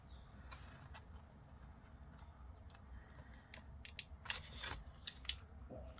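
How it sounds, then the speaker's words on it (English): Scissors snip through thick layered cardboard in a run of quiet, sharp crunching cuts over a low room hum, growing louder and more effortful toward the end. "Oh, it doesn't want to cut. This cardboard has gotten so thick."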